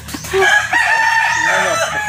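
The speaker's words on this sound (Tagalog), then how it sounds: "Mukhang matapang tong manok ah." A red rooster crows loudly and close by, one long drawn-out cock-a-doodle-doo after a short cluck, heard on a road trip around Ozamis City.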